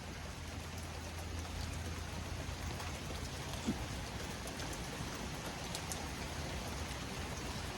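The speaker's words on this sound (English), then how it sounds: "I think the whole rain thing's going to wrap up soon as well." Steady rain pours down after a passing thunderstorm, a soft continuous hiss of drops on surfaces with no voices, one faint tap standing out midway.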